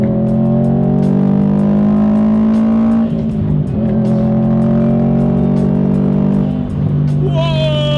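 A tuned Subaru STI pulls hard with a loud, droning engine note that climbs through the gears, heard close from inside the car with steady road noise underneath.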